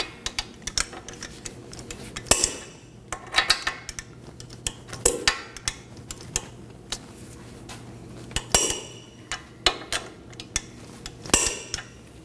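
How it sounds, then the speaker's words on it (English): Wrench tightening the cast nut on a ball joint of a 2020 Toyota Corolla, metallic ratcheting clicks and clanks in short repeated bursts with pauses between. "insert your wrench, and tighten it down."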